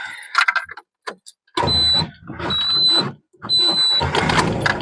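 An old Volga car pulls away, with bursts of engine noise and a squealing whine that repeats three times and is broken by short gaps, loud and close, with a few clicks and knocks before it.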